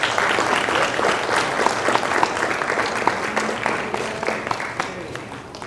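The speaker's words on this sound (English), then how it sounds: "Let's give a round of applause." Audience applause fills a meeting room, steady dense clapping from many hands that carries on for several seconds at an even level before easing slightly toward the end.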